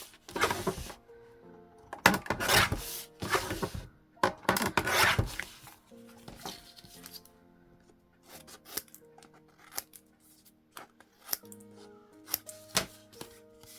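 Folded paper card pieces trimmed for handmade cards, giving soft close rasping and cutting strokes in quick clusters, then scattered light taps and rustles of paper, no talking.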